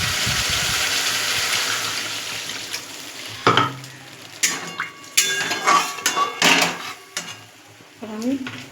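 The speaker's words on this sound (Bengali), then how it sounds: "এবার আমি এর মধ্যে দিয়ে দেবো পরিমাণ মতো জলটা আমি অল্পই দেবো" In a frying pan of katla fish curry gravy, a hot sizzle starts and is cut off as water is poured in, followed by a series of clinks and scrapes of a utensil against the pan.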